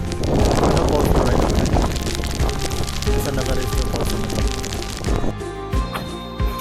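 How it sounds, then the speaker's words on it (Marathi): Steady broadband hiss of heavy monsoon rain pouring outdoors at Bhandardara amid fog, with occasional gusts and voices talking over it; the downpour eases slightly near the end. "पूर्ण पाऊस पडला बघा किती पाऊस सुरू झाला"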